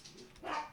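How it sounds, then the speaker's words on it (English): A dog barks nearby in a short burst, a single loud yelp-like bark rising out of faint background hum, heard indoors. "My dog's barking"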